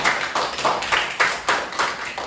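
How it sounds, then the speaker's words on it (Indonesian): A classroom of students claps for a classmate in a short, rhythmic burst of about eight evenly spaced claps, fairly close and unaccompanied by talk. "tepuk tangan untuk Jara"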